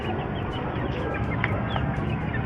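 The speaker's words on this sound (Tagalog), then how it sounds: "maingay sa manukan, may nag-iitlog kasi ngayon si Raptor Owned" Hens cluck in a chicken coop during laying, a busy overlapping chorus of clucks at moderate level with no talk.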